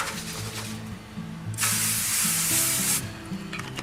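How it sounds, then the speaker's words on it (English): A steady burst of aerosol canola cooking spray hisses for about a second and a half, loud and close, over a low background hum. "I'm also going to spray it with a little bit of canola spray."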